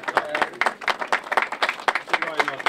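Applause at a Szekszárd winery opening ceremony, with people clapping while holding wine glasses; a steady run of close, dense claps.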